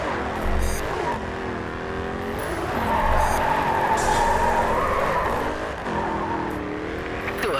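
Race car drifting in the racing game Grid 2: a loud engine howls and rises in pitch while the tires squeal through long slides, with the engine dipping and surging again between drifts.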